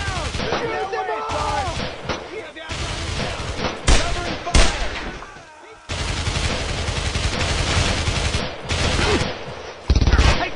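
Heavy gunfire from the WWII shooter Brothers in Arms: Road to Hill 30, with loud machine gun bursts and rifle shots in sustained volleys, a brief lull partway through, then more close fire as soldiers shout orders over it.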